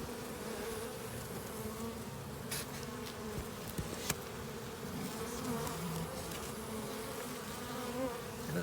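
A dense swarm of honey bees buzzes inside a hive warmed for thermal treatment, a steady, close droning hum with a few faint knocks and no talking.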